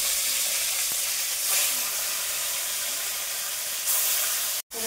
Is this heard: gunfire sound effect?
no